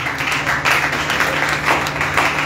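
A church congregation claps loudly and steadily for the Lord at a women's prayer meeting, with dense sustained applause and a faint mix of voices underneath.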